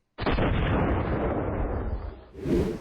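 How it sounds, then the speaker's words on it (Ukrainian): A single loud grenade blast at a public transport stop in Dnipro, Ukraine, bursts suddenly from silence, then rolls into a long rumbling roar that slowly fades, with a second surge near the end. "Лунає вибух."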